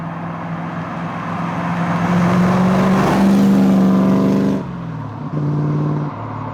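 Car with a 3.9 Rover V8 engine driving on a road, a deep rumbling drone that builds as it accelerates, peaks loud, then drops off and steadies with gear changes, heard from nearby and alone.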